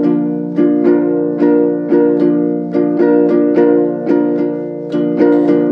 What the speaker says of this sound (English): that's the island strumming pattern or the island strum